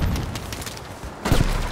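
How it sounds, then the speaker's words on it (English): Battlefield 5 artillery barrage on the Pacific Storm map: a short burst of heavy, rumbling booms and crackling impacts, with a louder blast near the end. "We need an artillery barrage sent to this location."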